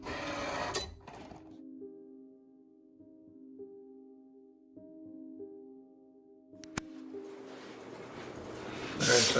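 A Cricut Explore 3 cutting machine slices clear heat-transfer vinyl with a steady, humming motor whir broken by short pauses and small shifts in pitch, and brief louder handling noise at the start and end.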